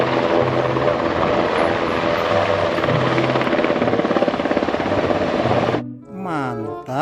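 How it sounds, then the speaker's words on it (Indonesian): A toy helicopter gives off a steady, loud, buzzing rotor whir for several seconds. It cuts off abruptly, and a brief voice follows. "Helikopter teman-teman."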